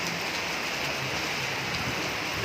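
Steady, dense rain falls during a typhoon and patters on surfaces as a continuous broadband hiss, loud and close, with no voices.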